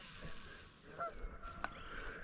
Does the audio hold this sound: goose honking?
yes